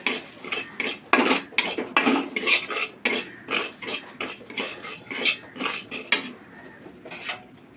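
Semolina being stirred and dry-fried in a pan for patishapta pitha filling: a spoon scrapes and clinks against the metal pan in quick, uneven strokes, close and alone.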